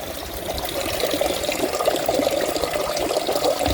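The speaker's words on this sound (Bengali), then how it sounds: "এটা টিনের চাল থেকে পড়তেছে" Rainwater pours steadily off a tin roof into a pot, a continuous close splashing stream with no voices.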